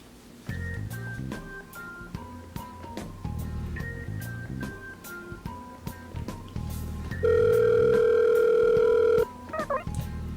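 A telephone call being placed, with a melody-like run of dialing tones over a background tune, then a long steady dial tone near the end, followed by brief clicks.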